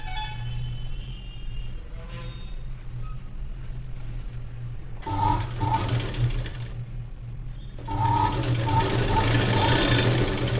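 A sewing machine stitches fabric in bursts during a tailoring lesson on a sleeve, running steadily near and loud with short pauses and a louder stretch toward the end, no talk over it.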